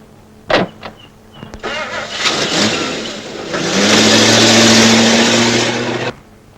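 A car engine nearby starts with a few sharp clunks, then idles, revs and pulls away in a loud, sustained roar before cutting off abruptly, with no talking over it.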